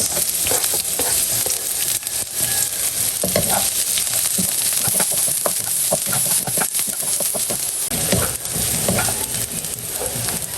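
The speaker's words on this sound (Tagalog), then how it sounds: "Nagpainit na ako ng mantika at magigisa na po tayo ng bawang at sibuyas." Garlic and onion saute in hot oil, a loud continuous close sizzle with repeated scrapes and clinks of a stirring utensil against the pan, with no voice.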